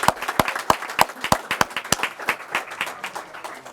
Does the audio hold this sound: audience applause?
yes